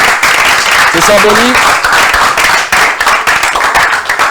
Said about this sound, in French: On applaudit très fort aussi et on fait des photos